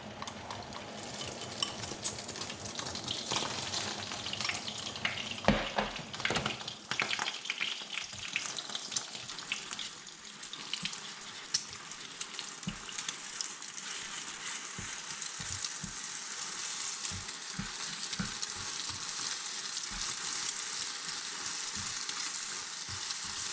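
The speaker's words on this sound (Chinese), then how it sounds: "油热了下入鸡蛋" Two beaten eggs hit hot oil in a wok and fry with a steady, bright sizzle and crackle that continues evenly throughout, heard alone without talk, as the first step of Yangzhou-style fried rice.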